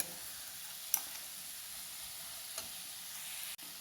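Ground spice powders are stirred into mango pickle in a hot pan, giving a continuous hissing sizzle with a couple of faint clicks from the stirring spoon, and no voices.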